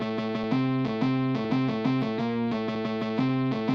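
Two Kontakt synths heavily saturated with the IVGI2 plugin, panned left and right, play a short buzzing riff of pulsing distorted chords, loud and alone.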